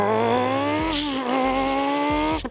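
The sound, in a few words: man vocally imitating a Ferrari F430 engine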